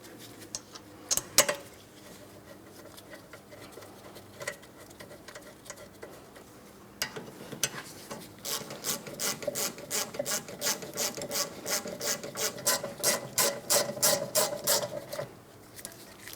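A hand ratchet snugs the brake caliper slider pin bolts on a Mitsubishi Outlander during a rear brake job. A few scattered clicks and taps come first, then a long, even run of rapid, close, moderately loud ratcheting clicks before it stops.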